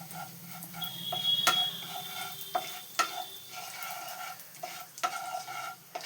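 Asafoetida sizzles in hot oil in a pan while a pea-stuffed paratha is being made, giving a light crackle broken by several sharp utensil clicks and taps.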